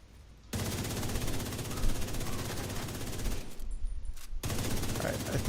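Sustained automatic gunfire in The Division 2 video game, loud dense bursts that run almost continuously, briefly pausing before resuming, with quieter game sounds at the very start.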